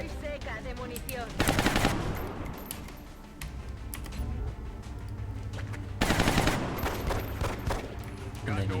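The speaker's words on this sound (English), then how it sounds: "And then you just keep shooting through that armor." Automatic gunfire in XCOM: Long War, two loud sustained bursts of rapid shots separated by quieter game sounds, with a voice talking over parts of it.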